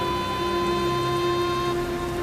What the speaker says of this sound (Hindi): तेज हवा के साथ बारिश और उसी बीच बिजली कड़कने लगी।